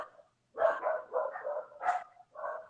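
Dogs bark in a string of about five close, loud woofs with short gaps between them, heard indoors with no talking.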